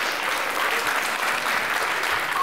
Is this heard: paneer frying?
no